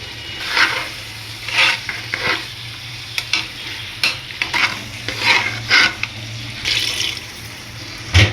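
Vegetables for tomato rice sizzle in a hot pan while a spoon stirs and scrapes in short repeated bursts, close up, over a steady low hum.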